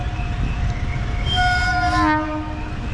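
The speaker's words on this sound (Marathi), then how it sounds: "रेल्वे आली." A passenger train arriving at a station near Ayodhya, with a low rumble of wagons and a loud horn blast that rises in the middle and then fades.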